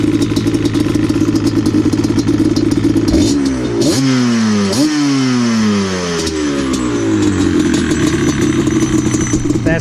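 A 2004 Yamaha Banshee quad fitted with Pro Circuit pipes idles with a raspy two-stroke burble, then revs hard several times in rising and falling sweeps before settling back to a loud, close idle.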